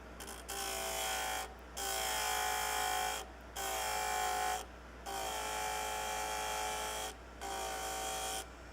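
A shop vacuum runs in repeated bursts of about a second or two with short gaps between, a steady whining drone during chisel grinding with 80 grit on a JOOLTOOL sharpening system.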